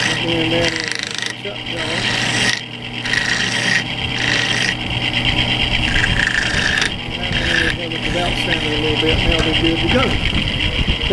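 A hand file rasps along the edge of a metal adapter in a workshop, repeated scraping strokes in an uneven rhythm with brief pauses, loud and close, while someone talks over it.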